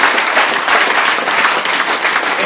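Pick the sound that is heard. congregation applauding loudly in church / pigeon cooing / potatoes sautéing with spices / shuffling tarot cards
congregation applauding loudly in church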